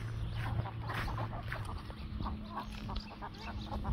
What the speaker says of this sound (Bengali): এই যে কত সুন্দর হাঁস,